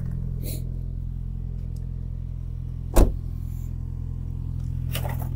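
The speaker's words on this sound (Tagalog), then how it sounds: "Painitin muna natin yung makina." A car engine warms up at idle on a cold day in Québec, a steady low hum running throughout with a sharp thump near the middle and faint clicks at the start and end.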